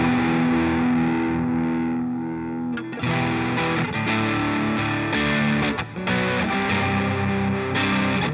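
Electric guitar run through two effect pedals, both cranked up, giving a thick distorted, modulated tone with sustained chords and a brief dip partway through.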